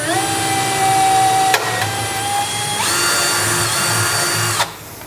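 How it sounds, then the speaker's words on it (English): Power drill boring a pilot hole up through the underside of a 2017 Chevrolet Silverado bed, a loud steady high whine that shifts pitch as the bit bites, with short breaks before winding down. "that's going to be a guide for us to drill a pilot hole"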